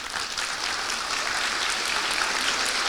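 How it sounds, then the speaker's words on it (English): A school auditorium audience at a high school honor roll assembly applauds counselors and teachers, producing a broad, even wash of many hands clapping that holds steady and loud from start to finish. "Please give them a round of applause."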